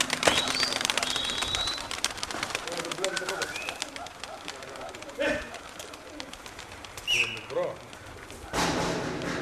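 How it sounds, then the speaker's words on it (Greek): Pigeons from a loft of diving pigeons in Kozani coo and rustle amid scattered thuds and wing flaps, while people talk nearby throughout. "αυτά είναι τα πουλιά του Στελάκη"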